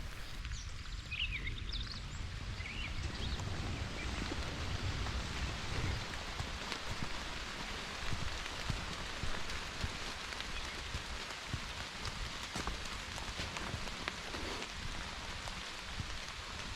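Rain falls steadily on a forest hiking trail in Ontario, a continuous dense patter of drops on leaves and ground, close and even throughout with no voices.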